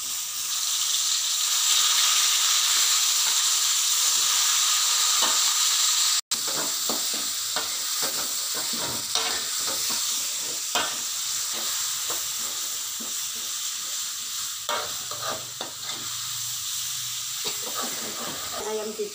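Steady sizzling of onions and spice paste frying in a pan for chicken gulai, with soft stirring scrapes and a constant hiss filling the background.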